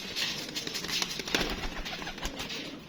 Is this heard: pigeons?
yes